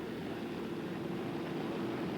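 Scale model airplane performing a touch and go at an outdoor scale aircraft show, its engine a steady continuous drone with wind noise throughout.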